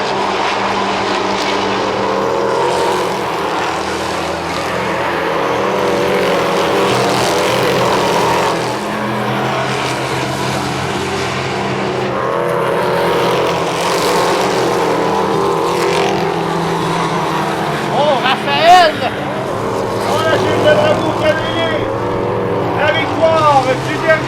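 Drag racing cars at a drag race drone with a sustained engine roar beneath an announcer's continuous commentary, with sharper bursts of engine noise near the end.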